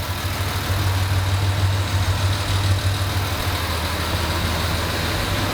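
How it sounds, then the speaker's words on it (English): A serviced Jaguar E-Type engine ticking over at idle: a smooth, even, low rumble with a steady hum, close and fairly loud, holding level throughout with no talking. "the engine's just, you know, it's just running as sweet as a nut now"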